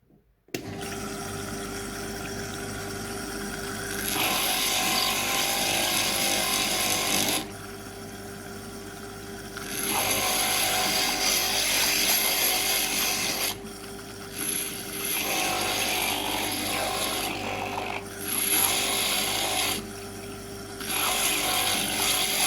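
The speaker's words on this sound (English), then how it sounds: "So the grinder's going on now." A grinder removes decals from fused dichroic glass pendants, whirring steadily with a constant hum while its pitch and grit rise and fall in several bursts as the glass is pressed against it.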